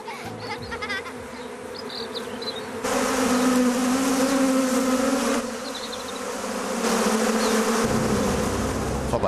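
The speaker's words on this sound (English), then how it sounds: "Take, for example, the honeybee, Apis mellifera." Honeybees buzzing loudly and continuously close by, a dense droning hum that swells and eases as bees move around.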